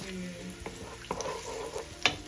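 Onions fry in hot oil with a soft continuous sizzle, joined by a few light clinks and taps of a utensil, close but fairly quiet.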